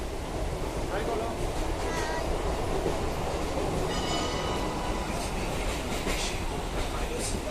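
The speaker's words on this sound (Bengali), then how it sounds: "আর ট্রেনটা দেখো কত জোরে চলছে, একদম জোরে।" A fast-moving train at night fills the space with a loud, continuous rumbling roar and rattling wheel noise, heard from inside the carriage, with faint squeals riding over the steady din.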